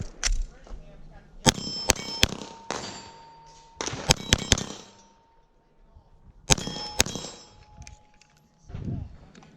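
Suppressed HK USP9 SD pistol shots crack out in quick clusters of two and three, each followed by bright metallic ringing, with pauses and a voice speaking between bursts.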